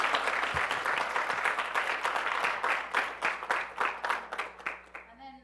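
Audience applause at a thesis defense on population genetics, a dense wash of many hands clapping that fills the room, then thins into scattered, separate claps before stopping near the end.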